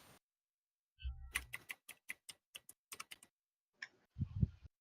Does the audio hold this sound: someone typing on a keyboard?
yes